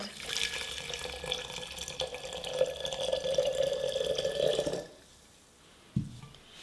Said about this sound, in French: de thé vert dans la théière et je vais rajouter de l'eau bouillante.